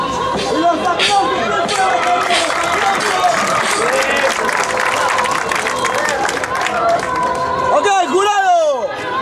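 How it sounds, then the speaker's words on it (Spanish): A crowd at an outdoor rap battle in Plaza de Reyes claps and cheers loudly and continuously, with whoops and shouts mixed in, while voices chatter through the noise. "Los aplausos."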